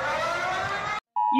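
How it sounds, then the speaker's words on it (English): A United Kingdom mobile phone emergency alert alarm sounds as a loud, steady, harmonic tone that cuts off abruptly, then a new, different tone starts after a brief silence. "It's just a carbon copy of the United States mobile phone EAS alarm."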